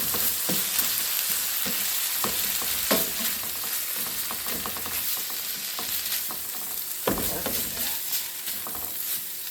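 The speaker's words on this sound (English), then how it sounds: "I'm going to go ahead and add that soy sauce mixture right into my meat. Add a good stir." Ground meat with a soy sauce mixture sizzles loudly in a pan while a spatula stirs it, scraping and clacking at an irregular pace over a constant hiss, with no voices.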